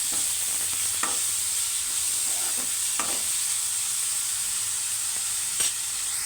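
Onions sizzle steadily in a hot pan for an egg fry curry, with a spoon scraping and stirring in a few sharp strokes over the constant, loud frying hiss.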